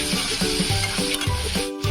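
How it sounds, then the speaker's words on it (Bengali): Tomato and chicken sizzling in a pan for green chicken, a loud dense sizzle with regular low scraping strokes of a stirring spoon, close and continuous, briefly dipping near the end, no speech. "এটাকে একটু নাড়িয়ে নেব"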